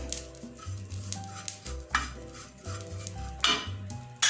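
Ajwain seeds and crushed red chilli being roasted in a pan, heard as soft stirring scrapes and light clinks of a utensil against metal over a faint sizzle, repeating in short strokes with no talk.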